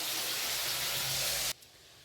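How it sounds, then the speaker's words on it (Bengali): Fish frying in a pan of hot oil, giving a loud, even hiss that cuts off abruptly near the end. "মাছ ভাজা বসিয়ে দিয়েছি"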